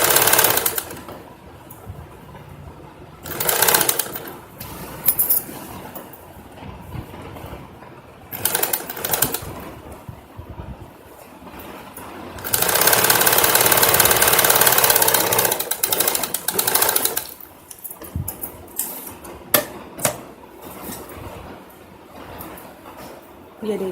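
A sewing machine stitches the interfaced neck collar of a garment in bursts, its motor whirring loud and close between pauses, with a long steady run in the middle and someone talking over the quieter gaps.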